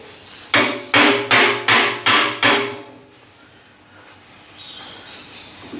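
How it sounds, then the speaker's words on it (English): Six sharp taps from a soft-head hammer, leather on one side and copper on the other, in quick, even succession, each with a short ringing decay, followed by quiet room tone. "It's a soft head hammer, it's leather on one side,"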